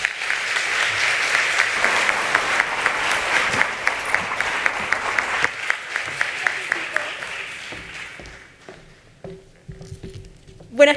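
Audience applause welcoming a speaker to the stage at a youth dialogue event, full dense clapping that thins into scattered claps and fades out after several seconds, with a voice briefly heard near the end.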